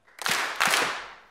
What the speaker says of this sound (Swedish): Okej, sen kommer det överkurs. Två applåder.